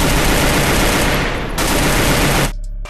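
Rapid gunfire in a solo-versus-squad shooter video game: dense, loud automatic shots fill most of the stretch, cut off near the end by a few quieter sounds, with no talking.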